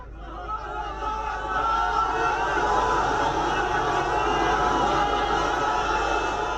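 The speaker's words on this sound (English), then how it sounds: "you can hear the huge crowds who've been waiting, and they're cheering as each child is lifted out" A large crowd waiting at a disaster rescue site murmurs and then swells into sustained cheering and shouting, a broad continuous roar that builds over the first seconds and holds steady.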